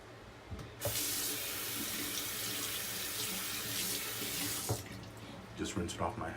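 Water runs steadily from a bathroom tap as a shaving razor handle is rinsed under it, a close, continuous rushing hiss that stops near the end, followed by a few light clinks and brief faint talk.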